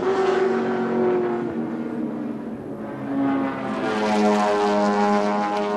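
A 5.7 litre Ford Group C touring car races down the straight at Adelaide in 1981, its engine a loud, sustained roar that dips briefly, then swells again as the car pulls away.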